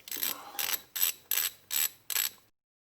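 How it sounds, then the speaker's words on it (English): A socket wrench ratchets in six quick, evenly spaced bursts of sharp clicking while loosening cylinder head bolts on a Ski-Doo snowmobile, close and loud, then stops dead. "So I'm going to go ahead and get my socket and loosen these up."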